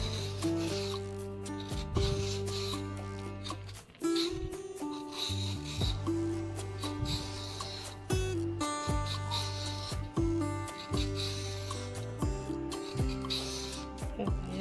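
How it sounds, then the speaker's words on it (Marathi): The ridges of a ridge gourd are scraped off in close, rhythmic rasping strokes. Tonal background sound runs beneath the scraping, and no voice is heard. "आता आपल्याला शिराळ्याच्या या शिरा आहेत ना, त्या काढायच्या आहेत।"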